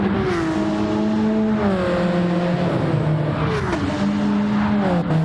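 A Porsche race car in a sim racing game holds a loud, steady engine drone with a whining pitch that shifts through gear changes, close and continuous without speech.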